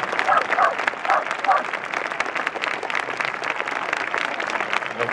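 A crowd at an outdoor samurai horseback archery event in Helsinki gives a standing ovation to the Japanese archers, with steady, moderately distant clapping and a few voices mixed in.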